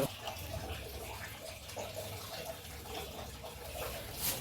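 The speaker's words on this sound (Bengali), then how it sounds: "দেখো মাছ দেখো মাছটা একটু ধুয়ে নিই" Tap water runs steadily while rohu fish is washed in a home kitchen, a continuous, fairly quiet splashing hiss with faint clatter and no pauses.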